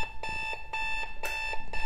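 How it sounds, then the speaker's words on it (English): Superman-themed alarm clock sounding its alarm, a rapid repeating electronic beeping in regular pulses about every quarter second, loud and close, with no talking. "Because the alarm itself, which I set for 105."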